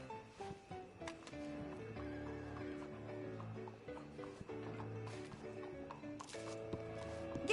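Horse whinnies and snorts in Red Dead Redemption 2, set against steady game music and ambience, with a few short sharp calls standing out through the clip.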